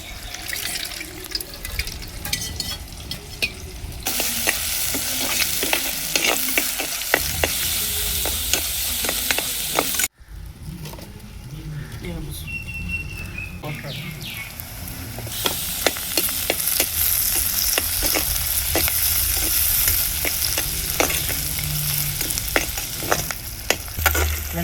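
Curry leaves and small shallots sizzle steadily in hot oil in a village kitchen, a loud continuous frying hiss with scraping stirs and ladle taps, briefly cut off before the sizzling resumes.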